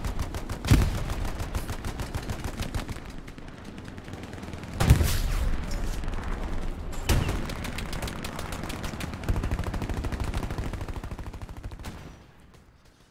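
Rapid rifle and machine-gun fire rattles through a Hell Let Loose battle, with several louder nearby shots and bursts over a continuous stream of distant gunfire that fades at the end.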